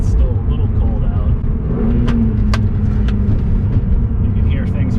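E36 BMW M3, an American-version car almost 25 years old, driving in third gear with its engine held to moderate revs on a cold day, a steady loud low rumble filling the cabin with faint rattles and a voice talking over it.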